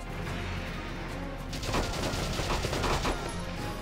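Rapid video-game gunfire in Valkyria Chronicles Remastered, a dense burst of shots in the middle of the clip over a steady background of game music and ambience, fairly loud and continuous.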